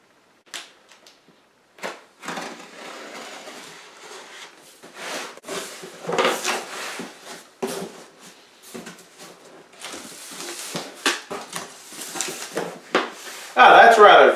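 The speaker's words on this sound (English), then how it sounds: "So we'll take this box out and open that up." A taped cardboard box for a motorized bicycle kit is pulled open and unpacked, with scattered tearing, rustling and cardboard handling sounds close by, growing louder near the end.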